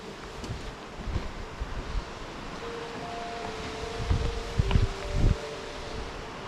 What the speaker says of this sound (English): Well, it's windy, but it's not cold actually.